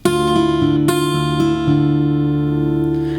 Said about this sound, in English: we're going to utilize the same finger picking pattern that we had put into our instrumental fill number 1